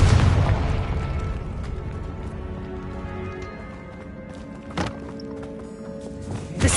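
A Confringo fire-spell blast in the game Hogwarts Legacy, landing as a loud, close boom that fades into a rumbling tail, followed by a couple of sharper pops.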